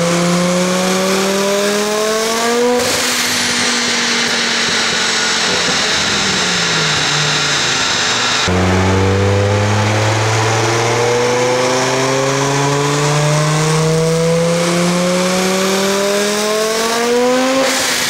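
A turbocharged car accelerates hard through the gears under load, its engine rising in pitch, dropping at each shift and climbing again, with a boost-cut stutter. It is loud, close and continuous with no talking.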